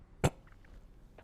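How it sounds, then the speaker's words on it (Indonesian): A single short cough, close and fairly loud, followed by near silence with only faint background noise. "Maaf batuk."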